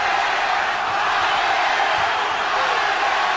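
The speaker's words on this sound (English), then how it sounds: "There's tremendous energy in the crowd for both fighters. We're hearing dueling chants." Boxing arena crowd at a Barrera vs Juarez fight roaring continuously, a dense wash of cheering and chanting voices filling the space at steady loudness throughout.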